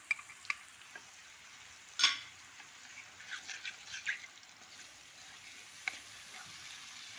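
Onion frying in a tagine with tomato, a faint soft sizzle with occasional clicks and a sharp clatter of stirring, close and quiet with no talk.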